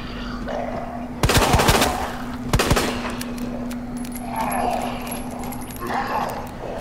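Gunfire aimed at a zombie in the Resident Evil 2 Remake video game, two loud, close bursts of rapid shots separated by about a second, followed by quieter game ambience and someone speaking.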